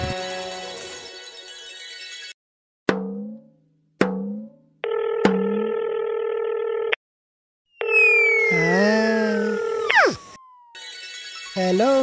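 A steady phone dial tone, then a few short electronic beeps and a sustained ringing tone, followed by a warbling, sliding electronic sound.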